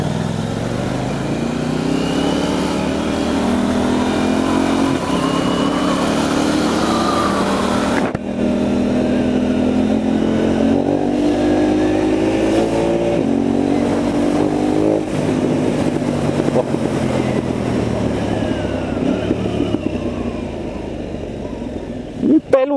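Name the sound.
KTM Duke 990 motorcycle engine accelerating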